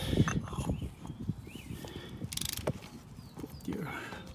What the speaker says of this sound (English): put your wrench over there. Loosening it.